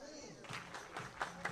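A baseball crowd cheers and claps at Athletic Park during a Wisconsin Woodchucks summer game, a broad wash of applause with a few louder claps standing out over steady crowd noise.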